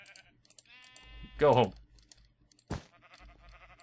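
Sheep bleating in the video game Minecraft: one clear drawn-out bleat near the middle, then a short sharp second cry, with a voice talking and faint keyboard clicks.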